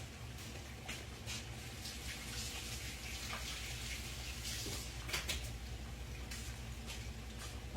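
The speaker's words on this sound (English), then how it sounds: "let me wash my hands again" Hands are washed under a running kitchen faucet, a steady, soft rush of water with small splashes and shifts in the flow, heard close up with no talking.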